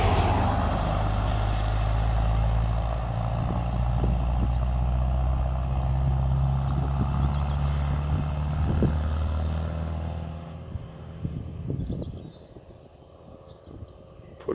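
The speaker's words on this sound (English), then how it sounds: "Full challenge with a David Brown 1290 two-wheel drive, 65 horsepower, pulling a high tachi and low loader." A two-wheel-drive David Brown 1290 tractor of 65 horsepower hauls a heavily loaded high-tipping trailer and low loader, its engine droning loud and steady, then easing off and fading near the end.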